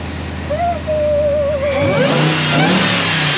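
Supercharged TRX V8 revving at a car meet and cruise, a rising engine whine and rumble that climbs sharply partway through, loud and close over crowd noise.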